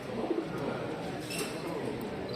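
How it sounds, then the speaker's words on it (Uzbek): Pigeons coo softly at an outdoor bird market, low and faint against a hum of background noise, with a few murmuring notes over a couple of seconds. "Chiroyli kaptar ekan bular."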